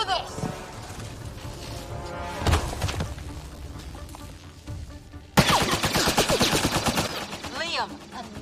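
Rapid bursts of automatic weapon fire in the Mass Effect Andromeda video game crackle steadily under music and effects, growing louder and denser in the second half as characters talk.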